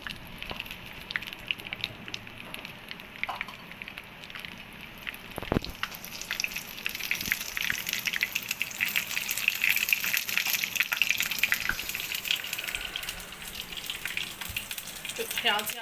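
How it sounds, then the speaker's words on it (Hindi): Whole red chillies fry in hot oil, a soft continuous sizzle and bubbling that builds slightly over time, with a brief knock or clatter partway through and no talk. "अब इसमें जाएंगी साबुत लाल मिर्चें। इसको भी थोड़ी देर फ्राई करना है।"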